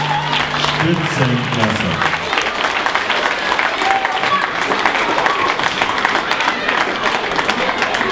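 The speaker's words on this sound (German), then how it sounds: "Jetzt einen riesen Applaus!" An audience at a children's carnival session of the Worbiser Carneval Club claps loudly and continuously after a dance performance, dense applause running throughout, with a voice speaking briefly over it.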